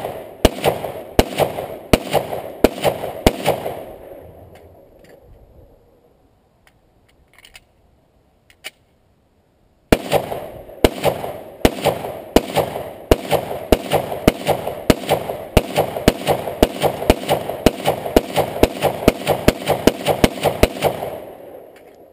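Rapid gunshots from a gun in a Bigfoot video game ring out in loud, evenly spaced bursts, stop for a few seconds, then resume as a long steady run of sharp shots.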